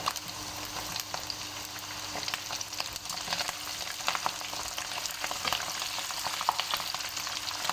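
Balochi chicken tikka karahi, with green chillies added, sizzles and fries in a pan, a steady crackling hiss broken by scraping stir strokes close by, without any talking.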